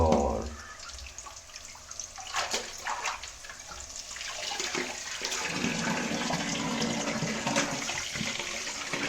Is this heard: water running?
yes